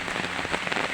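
Fairly heavy drizzle falling outdoors, a dense, steady patter of drops on surfaces that fills the whole brief moment, close and even, with no voices.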